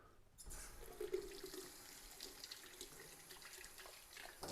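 Water running steadily from a tap into a sink to warm it up, a continuous close gushing splash that starts abruptly and keeps flowing with no talking.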